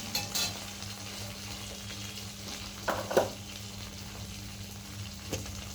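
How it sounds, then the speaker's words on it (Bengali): Hog plums (amra) fry lightly in a pan with a low, steady sizzle, punctuated by a couple of brief stirring scrapes and clinks, close and fairly quiet. "আমড়াগুলো প্রথমে হালকা করে একটুখানি ভেজে নেব।"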